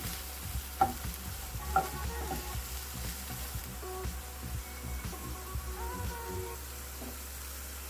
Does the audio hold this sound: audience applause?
no